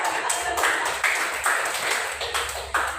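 A group of teachers at a training session claps together in a rhythmic pattern, sharp bursts of hand claps repeating at a brisk, regular pace in a room.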